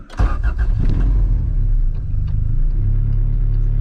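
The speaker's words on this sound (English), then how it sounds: "car's already warm, I had it running for a little bit." A Honda CRX with an all-motor B17 engine, already warmed up, starts and settles into a loud, close, steady mid-pitched idle rumble with a brief rise in revs near the start.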